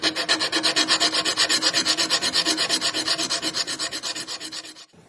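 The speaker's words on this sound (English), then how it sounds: "I'll give the back a nice sand" Close, loud rhythmic rasping of hand sanding on the back of a 1 mm metal pendant backplate for a prong pendant, steady strokes repeating about every quarter second for five seconds, then stopping abruptly.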